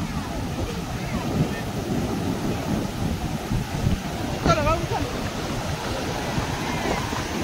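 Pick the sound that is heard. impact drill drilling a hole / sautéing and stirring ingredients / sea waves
sea waves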